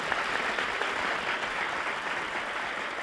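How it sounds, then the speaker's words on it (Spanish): A television game show studio audience claps in a dense, even wash of applause, sustained and fairly close for the whole stretch with no voices over it. "Un aplauso, ¿verdad que sí?"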